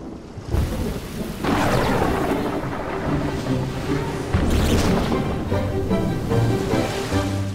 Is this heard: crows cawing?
no